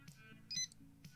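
A barcode scanner beeps once, a short, bright electronic tone in a quiet room while it is set up to work with an emulator for a Dinosaur King arcade game.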